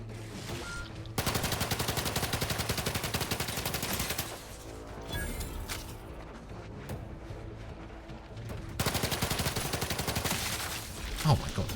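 Rapid pistol gunfire in the video game The Outer Worlds 2, long bursts of fast repeated shots separated by quieter stretches, loud and close, with game sounds between the bursts.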